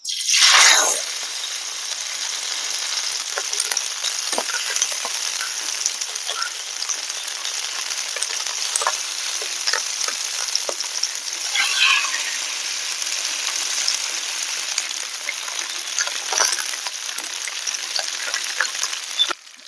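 Mackerel crackles in hot oil, with a loud initial hiss as it goes in, then a steady dense sizzle with scattered pops. Close up, with no talking.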